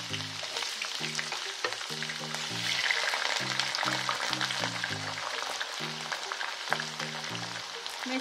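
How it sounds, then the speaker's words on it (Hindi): Drumsticks fry in a pan with a continuous close sizzle, while a rhythmic pattern of low, stepped tones repeats underneath throughout. "मैं इसको अच्छे से फ्राई कर लूंगी अभी पूरा रेड होते तक।"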